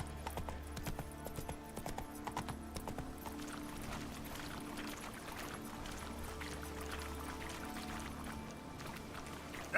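Roach, a horse in The Witcher 3, trots with a steady clip-clop of hooves, quiet and rhythmic over a soft ambient background.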